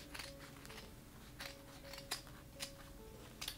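Scissors trim appliqué fabric around an in-the-hoop bunny slipper's U-shaped seam, giving a few faint, quick snips at irregular intervals over a steady low background hum.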